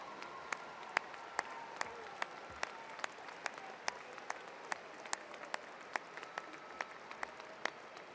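Commencement audience at a Texas Tech ceremony applauds the rising faculty, a steady wash of clapping across a large hall with a few sharper individual claps standing out, fairly distant and even throughout without voices.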